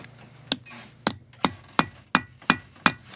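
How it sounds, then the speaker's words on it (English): Metal hammer strikes a center punch into a steel shot plate to make a small divot for soldering an ear wire, seven sharp clinking taps at a steady, slightly quickening rhythm, close and clear. "So I'm going to take a center punch and put a little divot right there."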